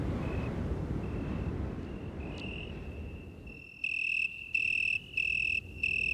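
Crickets chirp steadily at night in pulsing trills over a low rumbling background, the nearby chirps growing louder and rhythmic toward the end.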